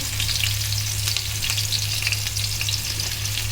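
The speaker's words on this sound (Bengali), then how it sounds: "বাগারের জন্য এখন পেঁয়াজ মরিচ রসুন সব দিয়ে দিয়েছি" Onion, chili and garlic frying in hot oil for a dal tempering: a loud, dense, steady sizzle and crackle close up, with a low hum underneath and no voices.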